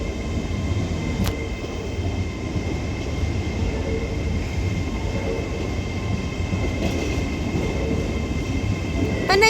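An Avanti West Coast Class 807 train sits at a platform in Liverpool Lime Street station, giving a steady low rumble and hum under the station's broad ambient noise, with a brief high chirp early on.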